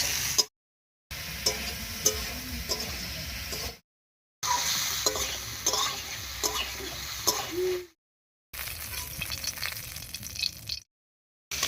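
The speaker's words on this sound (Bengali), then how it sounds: "পটলগুলো ভাজা হয়ে গেছে" Pointed gourd (potol) frying in oil with turmeric, a steady loud sizzle with clinks and scrapes of stirring against the pan, broken by brief silent cuts between stretches.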